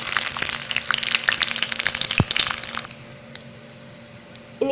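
Cauliflower pieces with coriander frying in a pan for a crispy Gobi 65 fry, a steady close sizzle and crackle for about three seconds that then drops away to near quiet.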